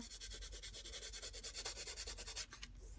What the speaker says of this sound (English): So at this point, you could even come in with your sandpaper